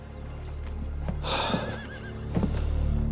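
A horse whinnies loudly in the middle of a Western street scene, a rising, wavering neigh that lasts about a second, with hoof clops and a low steady background hum around it.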